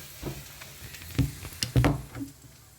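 Spinach with other ingredients sautéing in a little oil in a pan: a faint, soft sizzle with a few sharp utensil clatters near the middle, heard alone.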